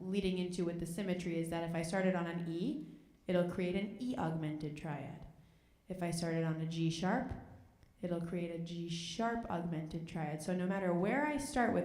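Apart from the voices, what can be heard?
No everyday noises stand out.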